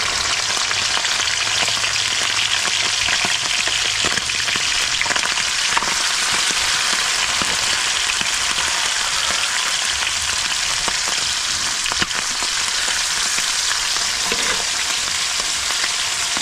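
Ingredients with onions fry in a pan, producing a loud, continuous sizzle with occasional stirring scrapes, steady from start to finish.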